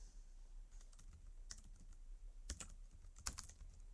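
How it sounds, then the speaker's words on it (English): Computer keyboard typing code, a scattering of light, quiet keystroke clicks in short clusters, with two denser bursts of taps over a faint steady background hum. "we're going to type global.property"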